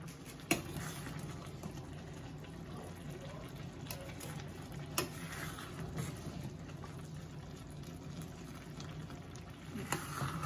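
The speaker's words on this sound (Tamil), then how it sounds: "அரிசி வேகட்டும்" A pot of rice for soya chunk biryani simmers and bubbles softly on the stove, with a faint, continuous watery burble and a few sharp clicks now and then.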